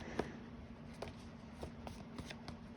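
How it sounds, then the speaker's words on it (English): Tarot cards being shuffled by hand give quiet, irregular soft ticks and riffle clicks over a faint steady hum, close but low in level. "Sorry, I'm trying to shuffle below my camera."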